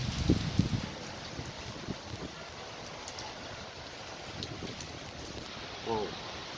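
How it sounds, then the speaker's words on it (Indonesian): Strong storm wind gusting during a rainstorm under dark skies in Sariharjo, Sleman, Yogyakarta, roaring steadily with heavier buffets at the start and near the end. "Wow, begitu kencangnya angin ini."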